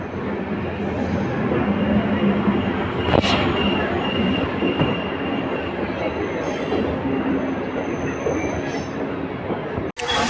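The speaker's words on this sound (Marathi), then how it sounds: "आली आता ट्रेन." A train pulls into and out of a station near the Maharashtra–Gujarat border, with a steady loud rumble of wheels and carriages and sharp wheel squeals, continuous and close throughout.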